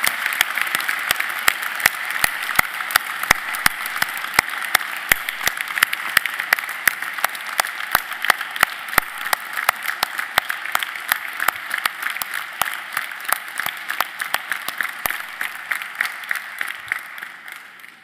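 An audience claps in sustained applause at a New Year's greetings ceremony in Marly, a dense, even patter of many hands that slowly thins and trails off near the end.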